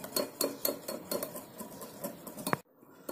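A spoon clinks rhythmically against a bowl while stirring Dalgona cake batter, quick repeated metallic taps at close range, ending abruptly.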